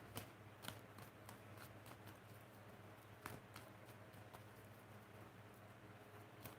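Tarot cards being shuffled close up, a series of quick crisp riffles and snaps in an irregular rhythm over a faint low hum.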